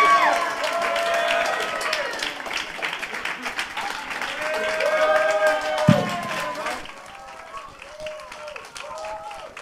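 A church congregation at a Christmas Eve service applauding after songs: dense, sustained clapping from a crowd mixed with voices, easing into lighter scattered claps and chatter toward the end.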